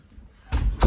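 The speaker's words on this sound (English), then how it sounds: "I'm just going to shut the door, so excuse the noise." A door in a pole barn hotel suite is pushed shut, giving two quick, fairly loud knocks or thuds close by near the end of an otherwise quiet moment.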